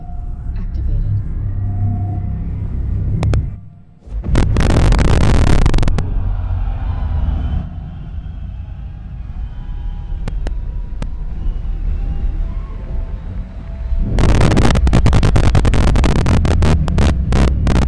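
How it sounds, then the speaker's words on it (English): Star Citizen quantum drive travel in the video game gives a heavy, continuous low rumble and hum, with loud bursts of roaring noise at the start and again near the end of the jump. "Quantum drive activated."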